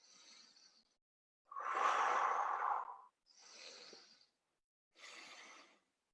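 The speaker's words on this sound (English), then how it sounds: "Circular breathing is just an inhale that leads straight into an exhale." Circular breathing through an open mouth, heard as close, airy breaths in a connected inhale-exhale pattern: four separate breathy bursts, the second longest and strongest, with short silences between and no speech.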